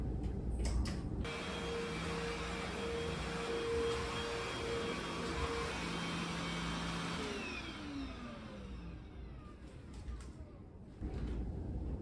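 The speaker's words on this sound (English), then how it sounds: "New vacuum." A cordless vacuum cleaner runs steadily with a whining motor hum, loud and close, its pitch shifting partway through before a brief bump and restart near the end.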